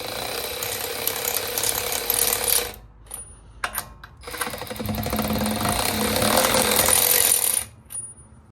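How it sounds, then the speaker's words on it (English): Ratchet wrench taking the lug nuts off a car wheel on an Infiniti G37, a near, loud buzzing rattle running in two long stretches split by a brief pause. "I do have my ratchet wrench, which I'm going to take these lug nuts off with. It works just fine. It's super loud."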